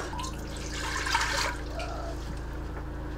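Water pours into an Instant Pot, a splashing rush that swells briefly and then settles into a softer trickle over a low steady hum.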